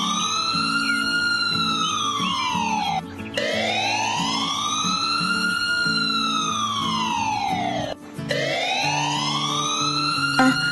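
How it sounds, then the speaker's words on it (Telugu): An ambulance siren wails in long rising and falling sweeps as the vehicle pulls away, loud and close, repeating steadily over background music. "ఇలా డ్రైవర్ అంబులెన్స్ ని స్టార్ట్ చేస్తాడు."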